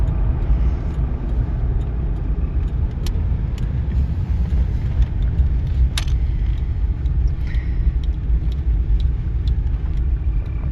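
A steady low rumble fills the cabin of a 1996 Chevy Caprice cruising on the road, with occasional faint clicks and ticks over the constant drone.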